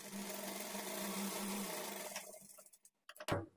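A sewing machine runs a steady edge stitch along a lined blouse piece, whirring evenly for about two seconds, then stopping with scattered soft clicks and a brief knock of fabric handling.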